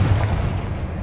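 Confringo spell explosion in Hogwarts Legacy, a heavy booming blast with a deep rumbling body that fills the moment loudly and decays slowly.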